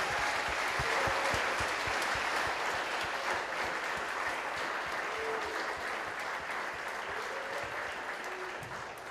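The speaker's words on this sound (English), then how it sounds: "How about a big round of applause for all of the nominees this evening?" Audience applause for award nominees at the 2022 Stittsville Volunteer Awards evening, a dense, steady round of clapping from a crowd that holds evenly throughout without voices.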